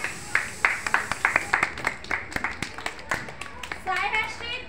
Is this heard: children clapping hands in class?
yes